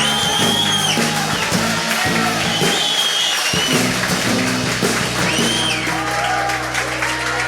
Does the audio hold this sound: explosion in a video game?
no